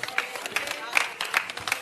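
A church congregation claps hands in praise to the Lord, a steady rhythmic run of about six sharp claps over a speaking voice.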